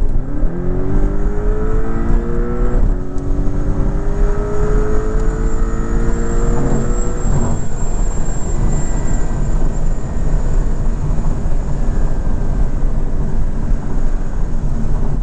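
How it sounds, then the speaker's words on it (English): The turbocharged flat-four engine of a 2024 Porsche 718 Boxster Style Edition roars loudly and continuously while driving, the pitch climbing through gear changes, with heavy road and wind noise. "I do actually really enjoy this turbocharged flat 4 engine"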